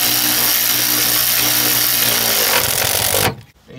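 A loud power tool whirs continuously while tightening an alternator bolt on a Chevy Equinox, then cuts off abruptly near the end.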